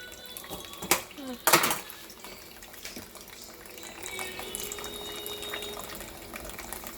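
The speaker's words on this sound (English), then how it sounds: "So before you prepare your meat, you have to make sure that it's well washed properly." Raw goat meat being washed under running water in a sink, a soft continuous trickle with a couple of sharper splashes and handling noises early on, fairly quiet throughout.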